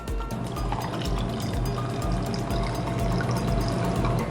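Water poured over coffee while brewing, a steady, continuous rushing pour that stays close and fairly loud and unbroken from start to finish, with no talking over it.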